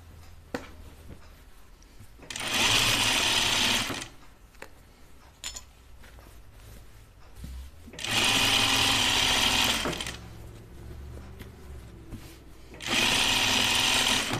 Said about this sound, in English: I'm just stitching on the original stitch line.